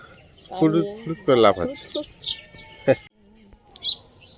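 Morning birds chirp and tweet in short bright calls at a moderate distance, heard under a person talking outdoors.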